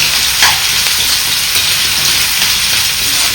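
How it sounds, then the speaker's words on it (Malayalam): Sliced onions wilt in a hot pan with a loud, steady, close sizzle that hisses on without pause; no voices. "അപ്പോഴേക്കിവിടെ ഉള്ളി വാടിക്കൊണ്ടിരിക്കുന്നത് നല്ല വാടണം കേട്ടോ"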